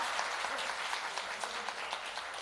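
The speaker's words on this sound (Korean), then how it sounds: "뜨거운 박수 부탁드립니다" Continuous applause from an audience at a book talk event, steady clapping throughout with no voices standing out.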